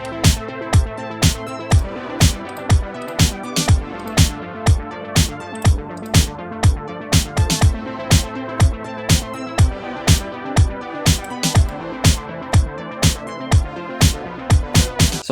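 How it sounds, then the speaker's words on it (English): A four-on-the-floor electronic beat built from a Dawn sample pack, with a steady kick on every beat and snares layered on top, loud and even in tempo with sustained synth tones underneath and no voices. "adding a kick and some snares"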